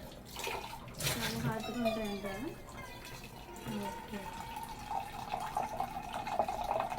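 Water pours from a Havells water purifier's dispensing tap in a steady running stream, with a person talking throughout.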